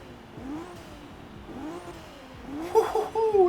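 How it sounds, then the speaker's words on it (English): A tuned car engine with a turbo revs in short rising bursts, building from moderate to louder blips with turbo whistle near the end, heard at close range without talk. "Listen to that turbo."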